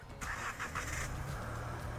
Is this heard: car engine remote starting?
yes